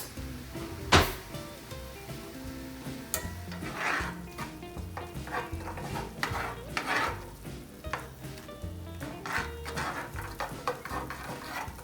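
A flour and butter roux is stirred in a pan as milk goes in, with irregular scraping and clinks of a utensil over a soft bubbling sizzle and no talk.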